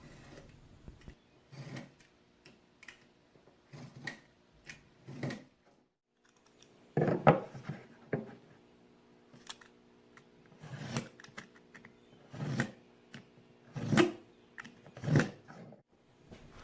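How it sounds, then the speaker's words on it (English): A box cutter scores a knife line into wood with hand tools, giving short scratchy strokes in irregular bursts with pauses between, close but quiet. "Now I'll score my knife wall in, starting lightly and progressively deepening my cut"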